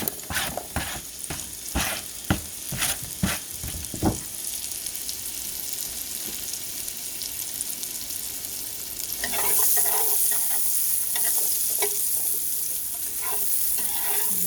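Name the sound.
onions frying in butter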